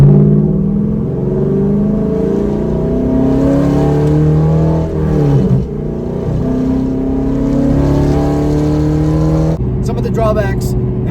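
A 2015 Chevrolet Camaro Z/28 engine revs and drones steadily while driving, its rising and falling harmonic tone running under someone talking throughout, with a brief shift near the end.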